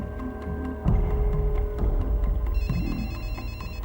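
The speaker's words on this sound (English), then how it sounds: "He heard her phone ringing in her jacket pocket" Mobile phone ringing inside a jacket pocket, a repeating electronic ringtone with a warbling melodic pattern, fairly loud and close, slightly muffled, over a low steady hum.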